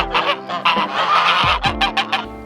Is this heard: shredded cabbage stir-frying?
no